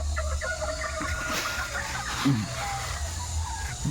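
Bantam chickens clucking in a small backyard coop at morning feeding time, soft scattered clucks with a louder call near the middle, over low background noise.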